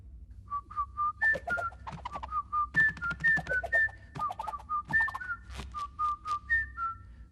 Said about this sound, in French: Suivez le chant du rossignol.